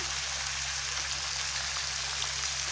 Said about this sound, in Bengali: এইরকম একটু লাল লাল করে ভেজে নেবেন।